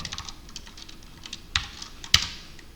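Computer keyboard keys pressed at a desk, a quick run of soft close clicks followed by two louder, sharper key strikes, with no talk.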